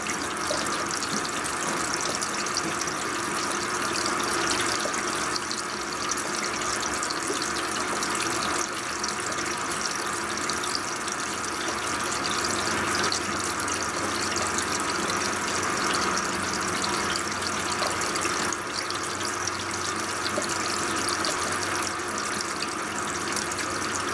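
A Brastemp 16 kg washing machine (BWK16AB) fills its drum with water and fabric softener, a continuous loud rushing gush of water spraying into the tub, steady throughout with no voices.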